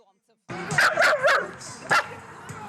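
Several dogs bark in quick bursts at a newly opened dog playground in Dnipro, Ukraine, fairly close and loud, with a few sharp yips standing out among the general outdoor noise.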